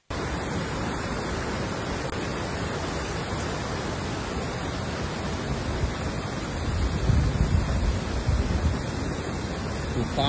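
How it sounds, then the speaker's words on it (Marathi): Heavy rain pours down with water running over a road, a dense, constant hiss and rushing roar that swells slightly louder toward the end, with no voices. "तुफान सारखा पाऊस पडतोय आणि रोडच्या वरती पाणी चालू आहे"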